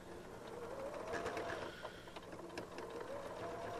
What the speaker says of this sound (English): So then I'm just going to throw that under the sewing machine.